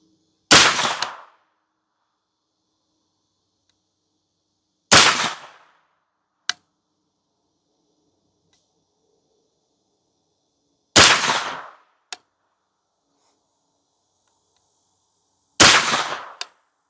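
Four loud, sharp gunshots from a Henry Homesteader 9mm semi-auto carbine firing Winchester 115 grain ammunition at an outdoor range, spaced several seconds apart, each followed by a faint metallic clink.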